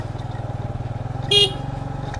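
A motorcycle rides along the road to Rayachoti, its engine throbbing with a steady, close, pulsing rhythm throughout, and a short horn blast sounds briefly near the end.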